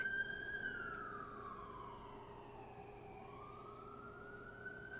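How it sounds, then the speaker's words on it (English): A single emergency siren wails, sweeping slowly down then back up in pitch, heard at a distance under low traffic rumble. "Sirens."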